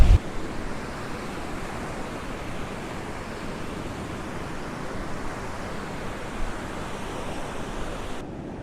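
Ocean waves washing onto the shore along the coast at Costa de Antigua, a steady broadband surf roar with gentle swells and some wind, continuous and moderately loud with no voices.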